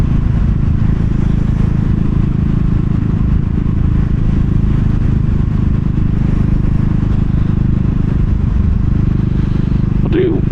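A 2022 CCM Spitfire Bobber motorcycle on the move, its engine giving a steady, loud, low rumble mixed with constant wind rush that carries on unbroken throughout.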